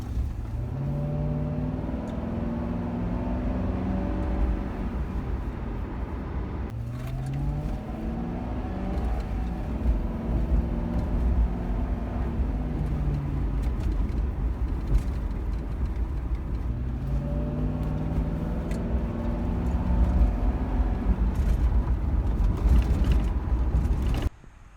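Ford Crown Victoria fitted with a K&N performance air filter, engine revving up and down in three long rising and falling sweeps over a steady rumble, close and loud.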